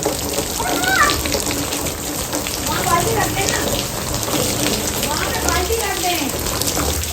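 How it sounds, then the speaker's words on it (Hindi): Heavy rain driven by strong wind, a dense, continuous hiss of falling water drumming on surfaces nearby, with faint voices speaking indistinctly beneath the steady downpour. "काफ़ी तेज़ हवा के साथ बारिश एकदम शुरू होगी, पहले धूप थी।"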